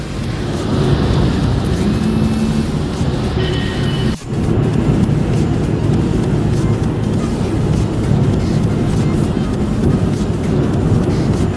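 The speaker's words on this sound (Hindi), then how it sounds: "तो भाई क्या मजा आ रहा है ना मारुति को दौड़ाने में" A Maruti 800 races flat out in a drag race against a Honda City, a loud, steady roar of engine and rushing wind heard from inside the car, with one brief dip partway through.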